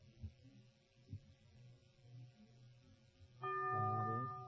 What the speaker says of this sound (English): The bell is tolled.